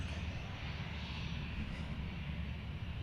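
An Embraer 500 jet engine drones steadily at an airport, a continuous low rumble with broadband whine holding even throughout, no talk over it.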